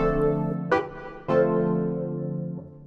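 Sustained synth chords ring out through a REVelation reverb in Cubase with a spacious reverb tail, three struck chords blooming and decaying smoothly into a soft wash.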